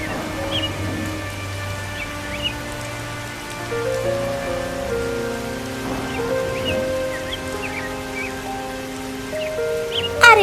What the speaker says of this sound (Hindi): अरे रे, ये बारिश कहाँ से शुरू हो गई?